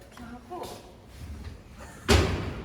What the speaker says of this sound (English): How did you close the door?